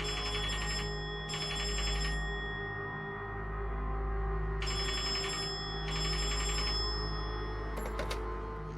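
A telephone ringing in a video game, three clear double bursts of a bright electronic ring spaced evenly over a low steady background hum, ending with a short click.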